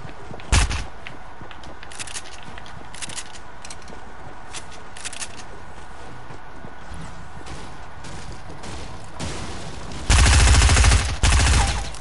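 Bursts of gunfire in a Fortnite Battle Royale match, scattered sharp shots through the first half, then a loud, dense volley of rapid fire near the end.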